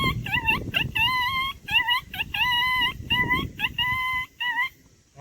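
A man whistles an imitation of a red-wattled lapwing, outdoors in Porbandar: a run of sharp, shrill, rising-then-falling calls in quick bursts, repeated many times in short groups, with faint crowd noise beneath.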